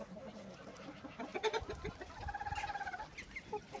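Roosters and other poultry in a coop give clucks and a short crow amid rustling and soft farmyard noise, with the calls fairly close and moderately loud.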